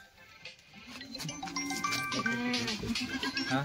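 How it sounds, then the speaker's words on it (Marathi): Kathiawari goats bleat in drawn-out, wavering calls at a busy goat market, fairly close, over a murmur of background crowd noise. "ही एक शेळी आकाशाचा"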